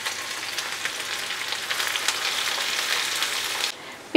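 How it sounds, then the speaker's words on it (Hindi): Two medium chopped onions frying in oil in a pan, a dense, steady crackling sizzle heard up close and alone, dropping away abruptly near the end. "प्याज को हम फ्राई करेंगे प्याज के कलर चेंज हो जाने तक"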